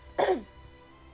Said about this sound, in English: I love whenever I cough or clear my throat or whatever